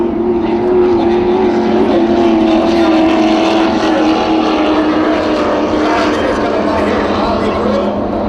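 Racing powerboats at a Pickwick powerboat race roar past in a loud, sustained engine drone that rises and shifts in pitch as the boats pass, with a commentator talking over it throughout.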